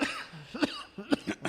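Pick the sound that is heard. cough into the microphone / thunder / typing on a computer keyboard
cough into the microphone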